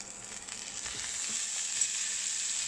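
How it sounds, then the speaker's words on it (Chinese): Pork ribs fry in hot oil in a pan, giving a steady, close hiss of sizzling that stays even throughout with no talk. "然后将排骨煎香，大约煎一分钟，看到排骨的肉有一点焦香"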